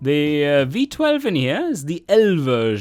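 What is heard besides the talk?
None of the usual background noises is heard.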